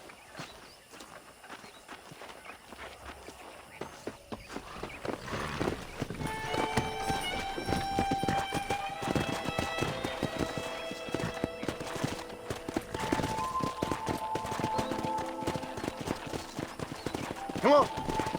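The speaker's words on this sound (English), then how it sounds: "Let's see if we can't wrangle some horses." Horse hooves in the Western video game Red Dead Redemption, a rhythmic clip-clop of galloping that builds and grows louder, joined by a whinny, with game music and voices talking over it.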